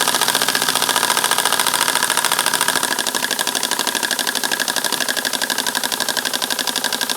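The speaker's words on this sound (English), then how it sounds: "Doesn't take much for this little LED driven generator." A small home sand-cast steam engine drives a little LED generator, chugging in a fast, steady rhythm at close range with no voices over it.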